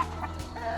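A chicken gives a short burst of clucking, close and fairly clear, lasting under a second.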